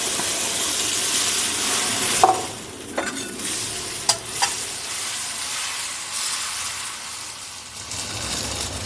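Kundu dosa batter hisses loudly in a hot pan, a dense, bright sizzle that suddenly drops to a softer crackle after a couple of seconds, broken by a few sharp clinks and scrapes of a utensil.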